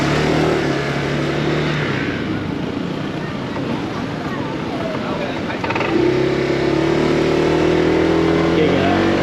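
A car drives through wet traffic in Kuala Lumpur, with a steady engine hum and road rumble, a brief rougher passage midway, and a voice talking over the drive.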